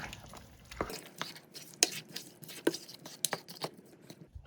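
Lamb curry with Patak's tikka masala paste being stirred in a pot, giving close, intermittent scrapes, taps and soft wet clicks in an uneven rhythm.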